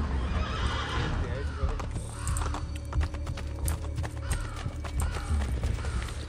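Horse neighing loudly with hooves galloping in Assassin's Creed Brotherhood, a repeated whinny over steady clip-clop and a dense game soundscape, with someone talking through it.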